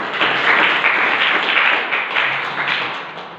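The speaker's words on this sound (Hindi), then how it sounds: "ताली बजाकर बोले हालेलुया, जोर से ताली बजाएं।" Church congregation clapping loudly and steadily in unison during a worship service, a dense continuous wash of applause with slight surges, no talk over it.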